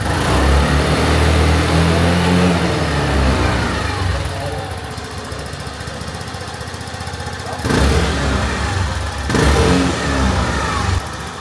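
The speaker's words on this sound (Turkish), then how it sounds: "hem rolanti sesi hem yolda giderken ki egzoz sesi daha az gibi geliyor bana" Kuba Grace 50cc motorcycle engine idling with its exhaust running, a steady, fairly loud close drone with slight rises in pitch, under people talking.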